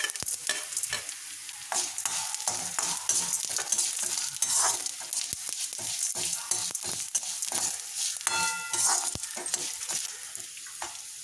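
Urad dal frying with red and green chilies, cumin seeds and tamarind in a pan, a steady close crackling sizzle with frequent sharp pops and scraping stirs throughout, no voices.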